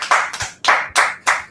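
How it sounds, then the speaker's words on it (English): Several sharp, distinct claps ring out close by in an uneven rhythm, five separate strikes spread over a second and a half with short gaps between them, loud and bright with no voices. "So we'll finish this off and clap it up."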